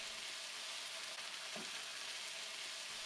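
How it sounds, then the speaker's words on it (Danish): Crushed garlic fries in oil in a pan, a steady close hiss and sizzle with a faint stirring scrape partway through and no speech. "så kommet knust hvidløg på, som jo kommer til at give masser af smag og skal lige have lov at varme op bare et minuts tid"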